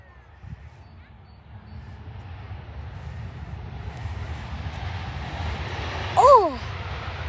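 A Ryanair jet airliner at Stansted Airport gives a low engine roar that builds steadily over several seconds, with a brief high chirp near the end.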